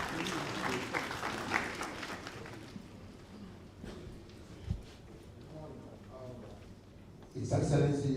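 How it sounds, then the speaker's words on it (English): An audience claps at a national budget hearing in Freetown, Sierra Leone. The applause is moderate and diffuse, mixed with people talking, and a louder burst of sound comes right at the end. "Let's give him a round of applause."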